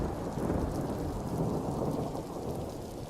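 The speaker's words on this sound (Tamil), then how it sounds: "புயல் சத்தத்தை அடக்கும் போது" Heavy storm with steady, loud rain and rolling thunder filling the whole clip, a dense, continuous roar with no voices.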